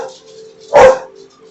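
A single sharp dog bark bursts out, loud and close, against a quiet indoor background with a steady low hum.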